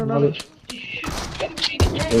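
Rapid bursts of gunfire ring out in a shooting video game, loud and close, mixed with thumps and heard beneath excited voices talking over one another.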